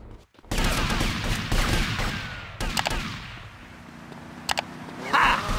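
A shootout in GTA Vice City: rapid bursts of gunfire crack and rattle up close, dense at first and then thinning into scattered shots, with a lull of low engine-like rumble between volleys.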